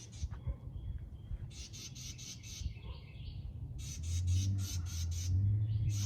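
A scared bird near a moved nest squawks in repeated harsh bursts, loud and close, with bursts of calls in two groups separated by a brief pause and a low hum beneath.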